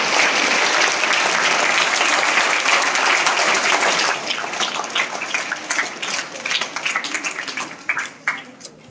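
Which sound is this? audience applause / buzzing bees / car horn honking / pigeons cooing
audience applause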